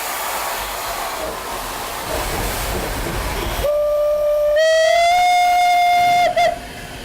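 A steam locomotive starting to move: a loud, continuous rumble and hiss gives way to a steady, tonal whistle-like blast, held for a few seconds before cutting off abruptly, then rumbling resumes.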